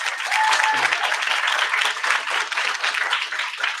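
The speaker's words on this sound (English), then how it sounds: "Another round of applause, please." An audience at a plenary conference session applauds steadily, a dense wash of clapping heard at moderate distance with no voices over it.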